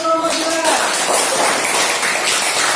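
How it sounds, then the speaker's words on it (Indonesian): Classroom applause for a student discussion group: a dense, steady patter of many hands clapping together, fairly loud and sustained, following a brief moment of voice at the start. "tepuk tangan untuk kelompok"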